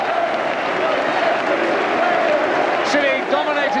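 A Bristol City football crowd at the 1993 home match against Grimsby applauds the team at the final whistle, a steady wash of distant clapping and cheering that continues under a commentator's voice.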